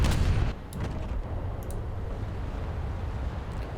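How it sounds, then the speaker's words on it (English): Warship secondary guns fire shells in War Thunder, opening with a heavy close boom, then a quieter rumble and a few faint distant reports as the low roar lingers. "Those are just my secondary shells"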